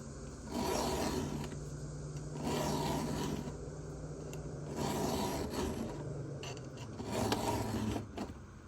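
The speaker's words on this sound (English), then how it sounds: "Sharpening my chainsaw." A chainsaw's cutter teeth are hand-filed to sharpen them: four long, slow rasping strokes at an even pace, close and fairly loud, with brief pauses between them and no talking.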